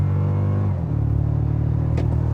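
A 2024 Toyota Tacoma TRD Pro hybrid truck accelerates at full throttle in sport mode with traction control off, its engine droning loudly, dipping at a gear change, then pulling hard again close by.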